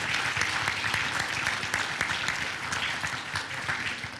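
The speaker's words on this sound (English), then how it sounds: "How about a nice round of applause for our speaker today, Hall of Famer Kellen Winslow." An audience claps for a Hall of Famer speaker at a Pro Football event, a dense, sustained round of applause at moderate distance that carries on steadily throughout.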